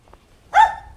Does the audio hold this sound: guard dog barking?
yes